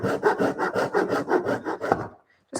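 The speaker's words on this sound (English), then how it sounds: "So just get a little handsaw." A small handsaw cuts through a wooden twig in about a dozen quick, even back-and-forth strokes, close and dry, stopping abruptly as the piece comes free.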